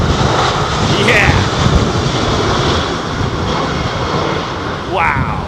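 Jet airliner powered by Rolls-Royce Trent 800 engines at London Heathrow Airport, a loud continuous roar with wind buffeting the microphone throughout, a voice talking over it.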